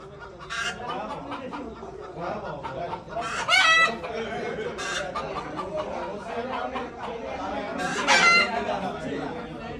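Free-range local hens and roosters on a poultry farm, with steady clucking throughout and two loud, near rooster crows breaking out partway and near the end.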